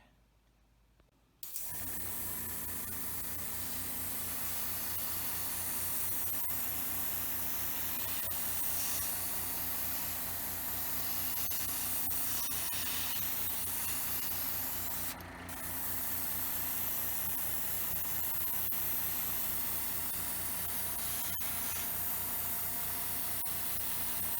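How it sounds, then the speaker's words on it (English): An airbrush sprays heavy black paint onto the interior parts of a retro 1701-E starship model kit. After a short quiet moment, a steady close hiss runs nearly unbroken to the end, with one brief dip partway through. "airbrushing some heavy black onto all the insides"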